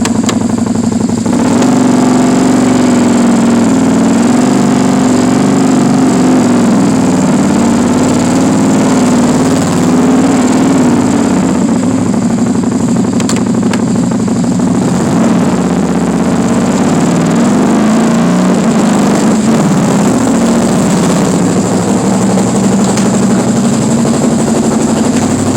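A Can-Am 570 XMR engine idles after a cold start in freezing weather, a loud, steady mid-pitched drone with a constant throbbing hum that holds without a break throughout.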